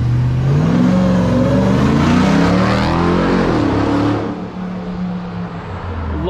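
A Hellcat-swapped Jeep Gladiator 6x6 engine revs hard on launch control and holds at high rpm, its pitch rising and wavering, then drops back to a lower rumble, loud and close.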